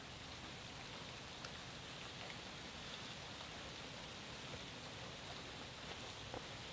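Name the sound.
rain falling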